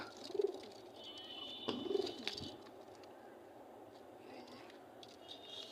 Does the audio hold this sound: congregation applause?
no